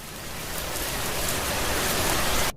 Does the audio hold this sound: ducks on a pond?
no